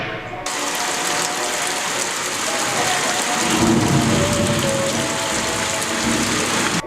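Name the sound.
stage rain sound effect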